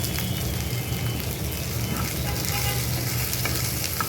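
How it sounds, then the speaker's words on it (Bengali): Okra coated in turmeric frying in oil, a steady dense sizzle and crackle that holds evenly throughout, close and fairly loud with no voices. "তেলে দিয়ে ভেজে নেব।"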